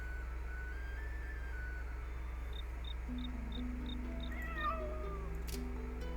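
A cat meowing in the video game FATE, a few short rising mews alone over a steady low hum, with faint repeated beeping tones nearby.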